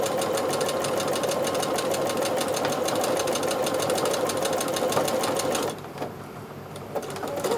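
Sewing machine running steadily for free-motion quilting, freehand stitching around the edges of a fabric patch on a garment neck, a fast even mechanical clatter that drops to a softer, quieter run near the end.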